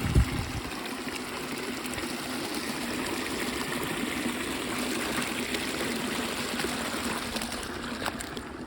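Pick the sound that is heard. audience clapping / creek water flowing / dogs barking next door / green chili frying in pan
creek water flowing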